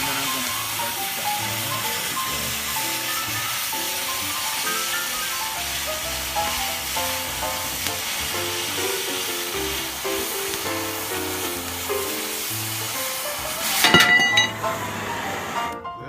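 Steady hissing roar of a cutting torch slicing through steel in a welding class, continuous and close with a sharp pop and crackle near the end over background music.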